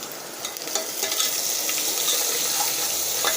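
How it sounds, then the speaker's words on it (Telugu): Onions sizzling in a pan while cooking masoor dal, a steady bright frying hiss with crackles and occasional stirring scrapes, close and continuous without speech. "ఈ ఆనియన్స్ మంచిగా వేగేంత వరకు ఉంచాలండి."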